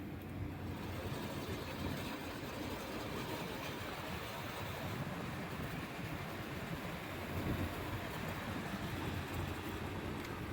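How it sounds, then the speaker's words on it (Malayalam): Maruti Suzuki XL6 AC blower motor running with a rattling noise, heard as a steady, loud broadband whir that holds evenly throughout with no voices. "ഒരു കിലുക്കം നോയ്സ് പോലെയാണ് കേൾക്കുന്നത്."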